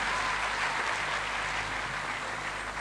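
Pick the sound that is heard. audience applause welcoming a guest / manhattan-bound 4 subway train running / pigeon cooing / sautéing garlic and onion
audience applause welcoming a guest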